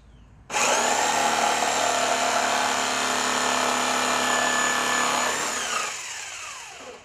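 Pallet wood being cut with a power tool to form a channel: a loud, steady high-pitched whine starts abruptly, runs continuously for about five seconds, then winds down.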